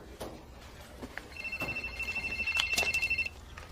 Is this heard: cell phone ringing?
yes